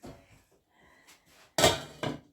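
A lid set down onto a pot holding rising bread dough in a home kitchen, two sharp metallic clinks close by after quiet rustling, with no talk.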